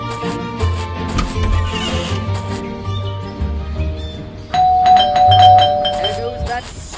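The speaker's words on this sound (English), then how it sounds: "There goes that stupid bell again." Doorbell ringing in the horror game Scary Teacher 3D, a bright chime sounding over busy game music, clear and fairly close.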